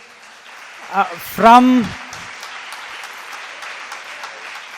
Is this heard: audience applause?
yes